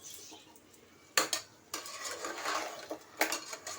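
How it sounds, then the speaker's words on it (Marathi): A metal lid comes off a pot of crabs frying in oil with ginger and garlic for a Malvani-style crab curry. Sharp metallic clanks ring out over a soft, continuous sizzle, followed by a few lighter clinks. "आता मी झाकण काढते"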